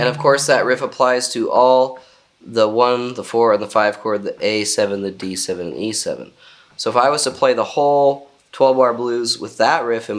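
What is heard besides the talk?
No everyday noises stand out.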